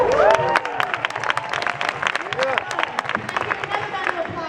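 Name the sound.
protest crowd applause and cheering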